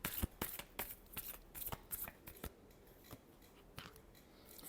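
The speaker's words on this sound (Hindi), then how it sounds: "last shuffle" A deck of tarot cards is shuffled nearby, giving sharp, crisp flicks and snaps in quick irregular bursts that then thin out, quiet overall and with no talking.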